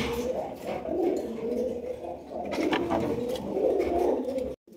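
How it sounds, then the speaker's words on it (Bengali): A pair of large silver Lahori pigeons cooing steadily up close, soft low murmuring coos continuing without a break for about five seconds and cutting off abruptly at the end. "এখানে রয়েছে বিশাল সাইজের এক জোড়া লাহোরি কবুতর"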